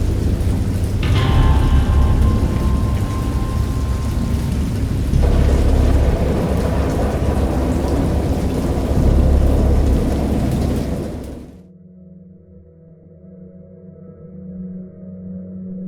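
Heavy rain roars steadily with rumbling thunder for about eleven seconds in a visual novel adventure game based on Lovecraft's Dagon, then cuts off abruptly to a quiet low hum.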